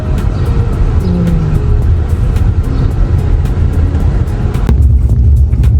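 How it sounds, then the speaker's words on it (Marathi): A car engine hums steadily at close range while the vehicle moves slowly, with faint clicks and a brief shift in tone near the end. "आता गाडी आम्हाला पार्क करायची आहे"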